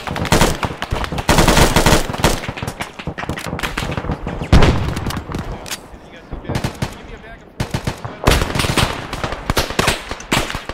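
Gunfire in a video game: loud, sustained bursts of automatic fire and rapid shots crackle almost nonstop, with brief lulls between volleys and heavy, close reports throughout.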